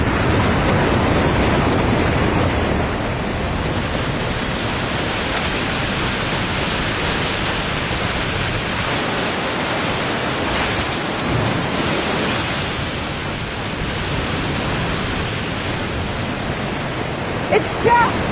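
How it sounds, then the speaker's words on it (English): A waterfall pours a dramatic jumble of mud and broken ice, making a loud, continuous roaring wash of water that stays close and steady throughout, with no clear speech over it. "it is pouring and pouring over the waterfall in this great dramatic jumble of mud and broken ice"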